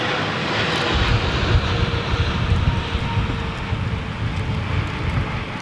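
A Saudi Arabian Airlines Boeing 777 airliner at London Heathrow gives a steady, broad jet-engine roar at fairly close range, with some wind buffeting on the microphone and no talking.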